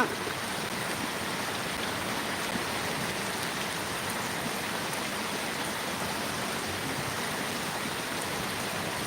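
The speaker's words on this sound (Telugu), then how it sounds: "సూపర్ వాన" Heavy rain falling, a dense, even rushing wash that holds steady and loud for the whole stretch with no breaks or voices.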